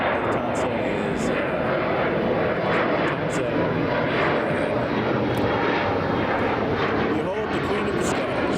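A Lufthansa Boeing 747 airliner at Chicago O'Hare airport, its engines producing a loud, continuous roaring rumble throughout, with people speaking over the aircraft noise.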